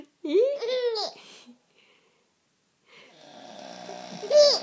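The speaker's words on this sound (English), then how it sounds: "Funny, Daddy snoring?" A baby lets out a bright giggling squeal, then after a pause a man's raspy snore rises, followed by another short squeal from the baby at the end.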